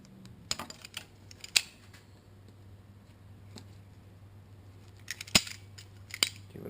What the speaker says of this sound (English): We'll just give it a couple twists and then hit it with our pliers to draw them in tighter.